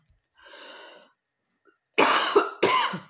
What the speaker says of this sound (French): C'est la toux d'irritation en fait.